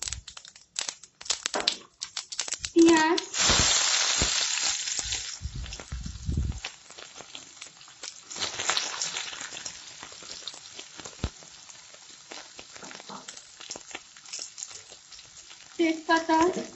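Whole cumin seeds hit hot oil in a wok, giving a sudden loud crackling sizzle that settles into a steady frying hiss with scattered pops, alone and close.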